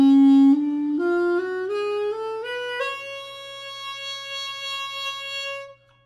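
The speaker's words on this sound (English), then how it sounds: "Here I have the Arabian saxophone. This instrument is made out of bamboo." A bamboo Arabian saxophone plays a reedy, buzzy run of notes climbing the scale step by step, then holds the top note before fading out, heard alone and close.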